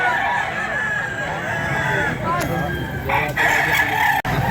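A fighting rooster crows loudly and close by at a gamecock sale, a long strained call with clucking and other birds around it and brief background chatter.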